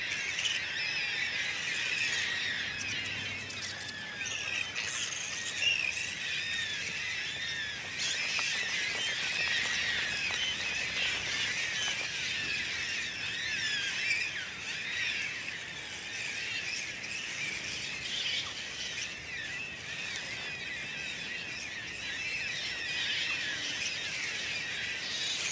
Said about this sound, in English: Eventually, the noisy birds move on